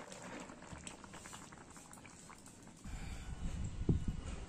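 Besan (gram flour) curry with papad bubbling in a pot on a stove, a steady close simmer that grows louder and thicker toward the end, with no talking.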